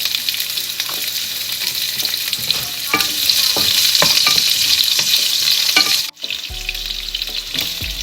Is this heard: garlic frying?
yes